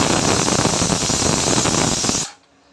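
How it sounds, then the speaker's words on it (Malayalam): A pressure cooker vents steam in a loud, steady hiss that cuts off abruptly near the end, leaving quiet kitchen background. "കുക്കറിൻ്റെ ഒരു സൗണ്ട് വരുന്നുണ്ട്."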